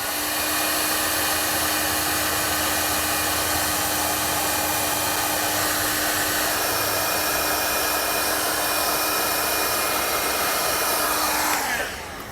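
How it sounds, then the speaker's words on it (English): A heat gun shrinks and seals heat shrink tubing during a battery disconnect install on a 2022 Chevrolet, producing a loud, steady, close blowing whine that runs unbroken before dropping off at the very end. "So I'm using a heat gun to seal this up"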